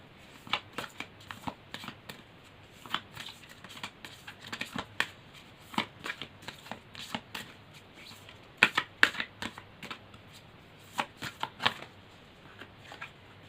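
Tarot deck shuffled by hand for a Pisces reading, repeated soft card flicks and riffles in irregular bursts, close and fairly quiet, with no speech.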